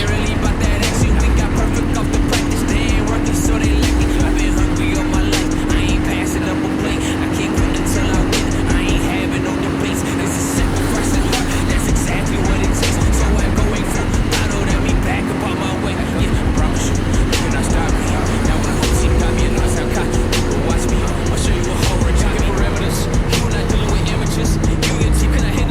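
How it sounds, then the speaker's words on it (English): A motorcycle ride with a steady engine drone and heavy buffeting wind noise throughout, loud and unbroken for the whole stretch, with a voice speaking faintly under the rush. "These are the joys of motorcycling."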